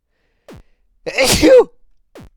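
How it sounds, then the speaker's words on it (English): A single hearty human sneeze bursts out loud and close, lasting about half a second, set between two short rising electronic chirps from a video game. "Every time I sneeze, I feel like I'm devastated."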